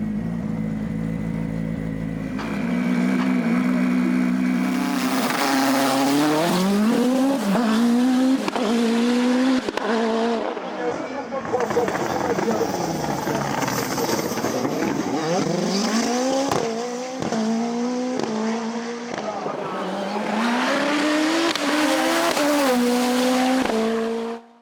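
A Nova Proto NP01 race car at a Beaujolais hill climb screams through repeated upshifts and downshifts, its engine note rising and falling sharply, with brief tire squeal, passing close and loud over about twenty-five seconds.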